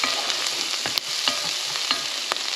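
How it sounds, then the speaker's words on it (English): Onions sizzling and sweating in bacon fat in a pan, a continuous bright crackle with occasional stirring clicks and scrapes, close and fairly loud. "we just want to soften these onions here"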